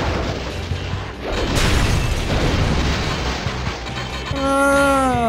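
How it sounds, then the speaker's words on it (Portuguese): A bomb blast from the SpongeBob Truth or Square video game booms loud and full, rolling on for seconds amid game sounds, then gives way to a rising chiming jingle. "Ah, isto rebenta."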